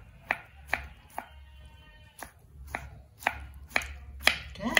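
A knife slices boiled banana blossom on a cutting board, about nine sharp chopping knocks in an uneven rhythm, close and fairly loud, with no talking.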